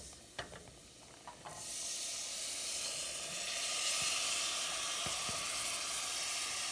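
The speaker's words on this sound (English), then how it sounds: "Let me go and add my peas to the pot." Fresh crowder peas tumble into a hot pot and set off a loud, steady sizzle and hiss that swells and holds, with a few light clinks of the pot and utensil at the start.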